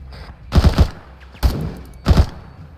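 Gunfire in the video game Arma 3, three short bursts of heavy rifle shots spaced about a second apart, loud and punchy with booming low end and brief echoing tails.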